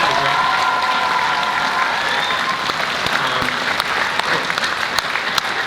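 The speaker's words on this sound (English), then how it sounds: "So Mrs. Vance, our choir director, if you could give her a round of applause." Audience applause at a high school orchestra concert, a loud, sustained crowd of clapping hands that holds steady throughout, with faint cheering mixed in.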